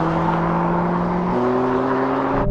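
An Audi RS3 accelerates hard in a drag race against a Golf and a BMW, its close, loud engine droning steadily, stepping down in pitch at a gear change partway through, then cutting off abruptly.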